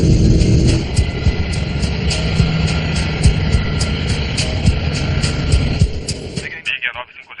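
A DC-8 jet airliner accelerates down a 3,000-metre runway at Gander for takeoff, a loud, steady roar with a high whine that holds for most of the stretch and then drops off near the end, with voices over it.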